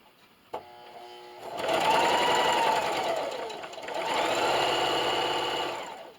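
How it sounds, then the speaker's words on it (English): A sewing machine runs in two steady stitching bursts, sewing a corner-to-corner X across rag quilt squares made from old clothes, loud and close with a brief pause between runs and no talk. "So now I'm just going to start in the opposite corner, and sew from corner to create that X right in the middle."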